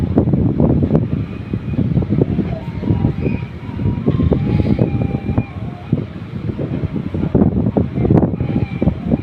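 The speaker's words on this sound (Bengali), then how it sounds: "নদীতে এখনো কুয়াশা, অনেক বাতাস, প্রচুর বাতাস নদীতে" Strong, cold winter wind blows across a foggy river and buffets the microphone with a continuous, loud rumbling roar that rises and falls in uneven gusts.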